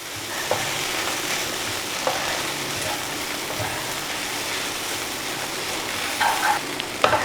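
Chopped leftover chapati being stirred and fried in a pan with egg, tomato and masala for kothu chapathi, a steady close sizzle with faint scraping and a few louder clinks of the spoon.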